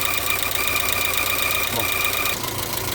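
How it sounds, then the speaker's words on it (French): Renault Twingo clutch and gearbox noise: a steady mechanical engine rumble with faint knocking and vibration, continuous and fairly close, no voices. "Je me demandais d'où venait ce bruit, bah ça vient de l'embrayage."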